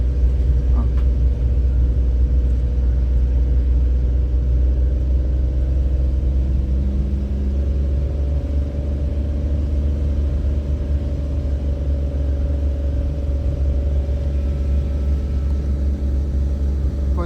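A car engine pulls steadily up an incline under acceleration, a loud continuous low rumble heard from inside the vehicle with no talk.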